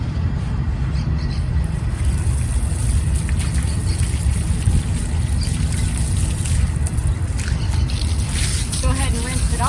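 Running water rinses soap from a horse's legs, a steady close splashing wash filling the whole stretch with faint background hum.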